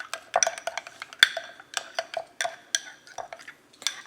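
Seasoning being stirred into Maryland-style steamed shrimp gives a close, irregular run of light clicks and clinks of a utensil against the bowl, scattered across a few seconds.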